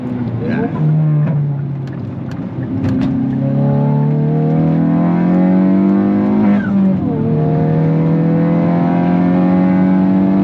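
A Hyundai i20N engine revs hard under acceleration, its loud, rising note broken by quick gear shifts and climbing again each time, with a steady road roar beneath.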